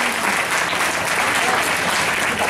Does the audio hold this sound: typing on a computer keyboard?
no